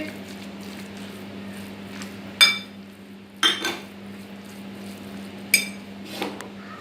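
Beef reshmi kabab mince being mixed in a bowl, with a few sharp clinks of utensil against the bowl over a low, steady background hum; no voices.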